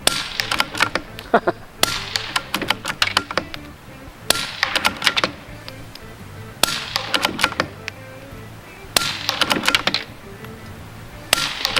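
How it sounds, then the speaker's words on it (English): A suppressed CZ 455 Varmint rifle firing subsonic rounds at a range, sharp muffled cracks in quick clusters separated by short pauses, close and fairly loud. "I am actually shooting a group down there."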